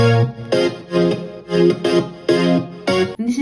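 An effects-laden synth plays a choppy, rhythmic sequence of bright bursts with shifting pitch, loud and dense, with no talking over it.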